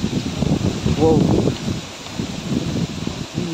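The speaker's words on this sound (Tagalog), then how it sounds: "Grabing lakas talaga ng hangin ngayon" Strong gusting wind sweeps through leaves outdoors in a stormy rural spot, a rushing hiss under close casual talk and a brief exclamation, rising and falling in bursts.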